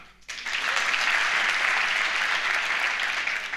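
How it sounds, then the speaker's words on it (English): Steady applause from a comedy club audience fills the room, starting abruptly after a brief quiet moment and holding a dense, even roar of many hands clapping throughout. "Can we clap?"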